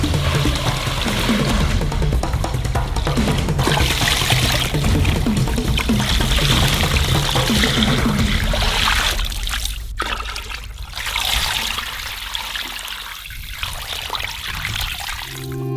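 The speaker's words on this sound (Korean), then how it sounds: "물을 부어주세요." Water poured into a cauldron holding sturgeon bone pieces and heads for fish soup, a loud continuous splashing gush that tapers to a softer trickle.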